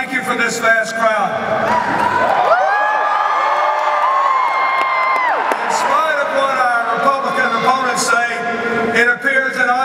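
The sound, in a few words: large crowd cheering at rally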